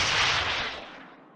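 A FIM-92 Stinger launcher fires in Minecraft with Flans Mod, giving one loud, near, broadband blast that rolls off into a fading boom over about a second, with no talk.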